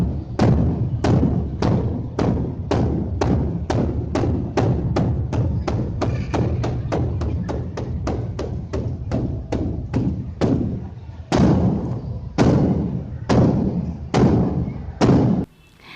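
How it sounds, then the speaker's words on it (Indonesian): A bedug, the large Indonesian mosque drum, is struck again and again in steady booming thuds, with a faster run in the middle and slower, heavier hits near the end, loud and resonant with a deep low body. "Nah, itu tadi anak-anak caranya membunyikan beduk."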